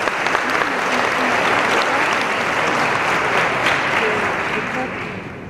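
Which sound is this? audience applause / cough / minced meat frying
audience applause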